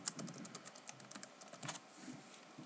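Rapid, uneven keystrokes on a computer keyboard as a username and password are typed, close and fairly quiet, with short pauses between bursts and no talking.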